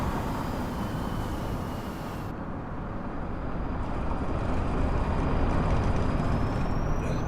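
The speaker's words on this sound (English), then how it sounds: "There's a bit of traffic." Road traffic in the bus-driving game TheBus, with a steady, close engine and road rumble, a brief air-brake hiss and a continuous broadband roar under a faint high whine.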